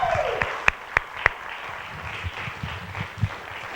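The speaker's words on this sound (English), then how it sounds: "how about another round of applause for these students?" Audience applause for students at a workshop, fairly faint and thin, with a few sharp louder claps standing out near the start before it tapers off.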